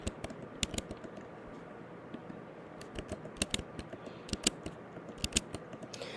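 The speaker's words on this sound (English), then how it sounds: "As we're typing things out" Computer keyboard keys clatter as someone types budget entries into an Excel spreadsheet at home, producing irregular quiet clicks in short bursts with no talking.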